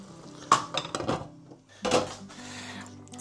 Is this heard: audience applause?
no